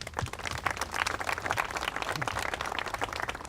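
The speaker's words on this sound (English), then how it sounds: "So please give yourselves a round of applause as well." Audience applause at an American Red Cross funding announcement for Hurricane Sandy recovery groups, a dense, steady round of clapping from a moderately sized crowd filling the whole clip.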